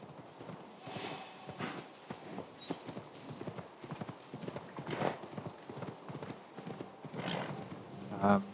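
A horse ridden in the Assassin's Creed Shadows video game, played on Xbox Series X: a steady clip-clop of hooves at a walking gait with a brief whinny, under intermittent talk.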